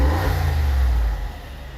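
A 2018 Mercedes-Benz G500 4x4² (W463) with a V8 and AMG-style side exhaust revs hard, a loud, deep, close roar that holds for about a second and then eases back to a lower drone.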